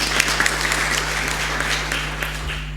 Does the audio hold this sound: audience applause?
yes